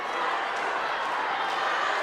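Wrestling crowd at a live match quacking like ducks to cheer a wrestler, heard as a dense, continuous crowd roar with no single voices standing out.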